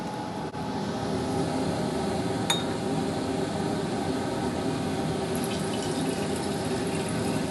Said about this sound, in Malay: sekarang saya akan tambahkan larutan satu ke dalam larutan dua.